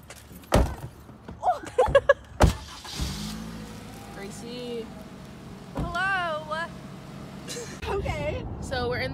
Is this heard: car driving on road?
yes